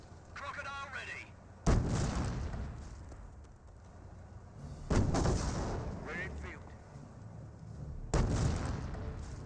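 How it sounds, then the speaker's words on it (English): A Flak 88 gun fires in the Company of Heroes World War II strategy game, three loud, sharp blasts spaced a few seconds apart, each with a long rumbling tail over battlefield ambience, with voices underneath. "Now the Flak 88's firing away."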